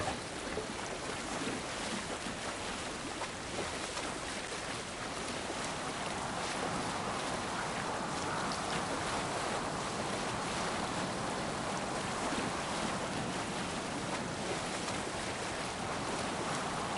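Sailing ship cutting through ocean waves in Assassin's Creed Valhalla, a steady broadband wash of water and wind rushing continuously, close and fairly loud with no talk.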